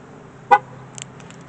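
Nissan 370Z remote lock chirp: a single short, fairly loud beep near the car, followed by fainter electronic ticks in a quiet outdoor setting.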